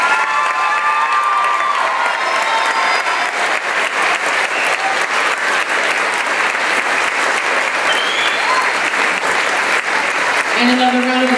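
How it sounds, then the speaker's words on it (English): An audience at a spring school band and chorus concert applauds the band members with steady, loud clapping and some cheering and shouts, sustained for the whole stretch. "Let's have a round of applause for all of our band members."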